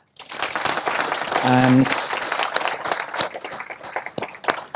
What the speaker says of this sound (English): Can I invite the audience to give a round of applause?